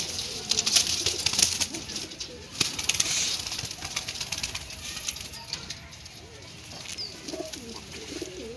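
Pigeons for sale coo softly with some wing flutters, while a person talks in the background throughout.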